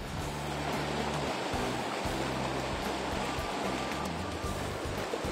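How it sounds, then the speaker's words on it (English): Water cascades down a spillway from an upper recharge pond to a lower one at a groundwater replenishment facility, a constant loud rushing roar with a low rumbling pulse and no voices. "the cells carry from the top pond cascade down through a spillway to the lower"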